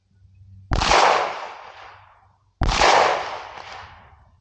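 Two pistol gunshots from a Glock 19 fitted with a red dot sight, fired at a target outdoors in Alaska, about two seconds apart; each is a loud close crack with a long ringing decay.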